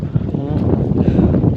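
Cold wind blowing across an open farm plot buffets the microphone as a steady low rumble that swells and fades slightly.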